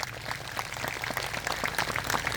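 A crowd at an outdoor protest rally claps, a fairly faint, uneven patter of many hands heard from a distance, continuing briefly without speech.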